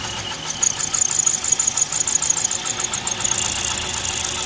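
A 1999 Lincoln Town Car engine idles roughly with a misfire, running on only five cylinders. It keeps up an uneven knocking pulse under a high whine, recorded close up.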